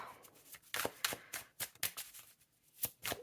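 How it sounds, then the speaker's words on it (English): A deck of tarot cards being shuffled by hand, a series of crisp riffling bursts in an uneven rhythm, close and fairly quiet, with no talking. "I'm just going to shuffle this deck."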